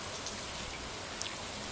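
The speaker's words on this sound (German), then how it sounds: "es regnet in Strömen." Heavy rain in the video game Stardew Valley pours as a steady, hissing wash of drops, soft and continuous, with no voices.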